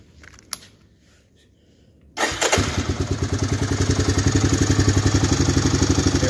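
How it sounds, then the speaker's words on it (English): A 1985 Honda Big Red 250ES three-wheeler is cranked and fires up after a quiet pause, then settles into a loud, close, rapidly chugging idle with a steady pulsing beat. "Now let's do my 1985 Honda Big Red 250ES."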